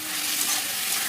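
A spice paste of green chili, turmeric, cumin and coriander frying with vegetables for a fish curry, a brief dense hiss of sizzling oil without distinct stirring strokes.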